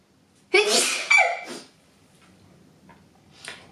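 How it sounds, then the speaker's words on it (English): Close by, a person sneezes in a sharp, loud two-part burst, followed by quiet breathing and a faint small sound near the end. "Only takes a sneeze to distract me."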